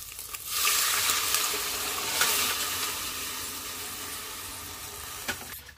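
Mung beans drop into hot oil and burst into a loud, close sizzle that stays steady with faint stirring, then fades slightly toward the end.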